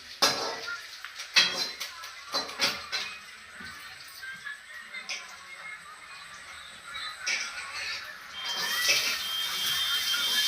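Chopped onions dropped into a pan while cooking litti chokha at home, with sharp metal clinks and scraping at the start, then a steady sizzle that rises toward the end.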